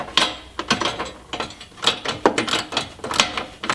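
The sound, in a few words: ratchet tightening Cherokee XJ rear bumper bracket bolt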